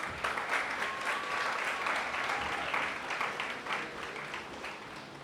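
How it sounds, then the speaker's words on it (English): An audience at a high school awards ceremony gives a round of applause, sustained clapping at fairly low level that rises briefly and slowly tapers, with a faint tone heard over it. "Round of applause, please"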